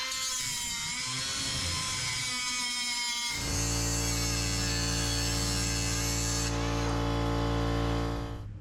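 A McGraw 3-inch pneumatic cut-off tool, fed by an 8-gallon air compressor tank, screams at a high steady pitch and then bears down into an 8mm steel fastener, the whine turning harsher and denser under load before tapering off.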